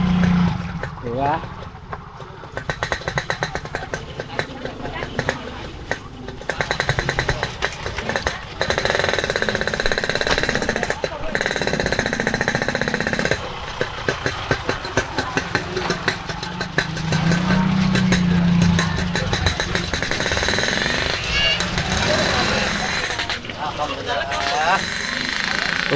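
A small motorboat carrying passengers putters along the Ujung Kali CBL river in Bekasi in strong wind. The engine chugs loud and steady throughout while people talk over it.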